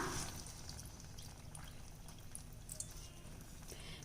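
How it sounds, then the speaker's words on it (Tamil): Water pouring steadily into a pan of gravy, a soft continuous splashing gurgle with a low rumble beneath, fairly close. "வேகிறதுக்கு தேவையான தண்ணி விட்டுக்கலாம்"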